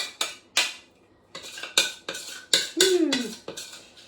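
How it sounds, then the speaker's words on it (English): A spoon scoops a bread mixture and scrapes it into a container, giving a series of sharp clinks and taps at close range, spaced irregularly, with no talk. "So you literally just get that and spoon it into there"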